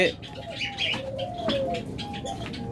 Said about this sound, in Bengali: অসংখ্য পরিমাণ বাজরিগার পাখি